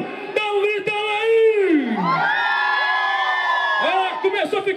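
Crowd at a religious pilgrimage festival in Arinos, Minas Gerais, raising a long cheering shout with whoops and yells, loud and sustained, with an announcer's voice briefly over it at the start and end.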